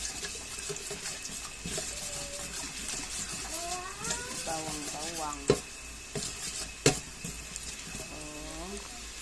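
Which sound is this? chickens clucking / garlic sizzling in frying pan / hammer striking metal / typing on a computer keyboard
garlic sizzling in frying pan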